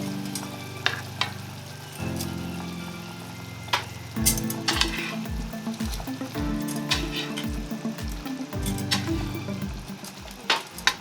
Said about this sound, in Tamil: இதில் நம்ம இப்போ மீன் போட்டுடலாம்